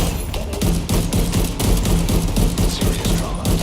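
Rapid bursts of automatic gunfire in The Division 2, a steady fusillade of closely spaced shots with thuds, loud and continuous throughout.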